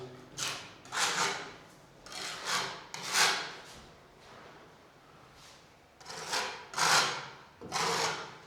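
Putty knife scraping filler across holes and cracks in a dusty utility room wall, a series of close, loud rasping strokes in rhythmic bursts with short pauses between them.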